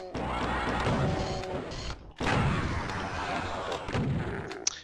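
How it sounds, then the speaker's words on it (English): The DOOM super shotgun fires repeatedly at an Arachnotron, with dense, crunchy blasts and game mayhem filling the space continuously, broken by one short drop before the gunfire and crashing resume loudly. "now switch to the super shotgun for the Arachnotron"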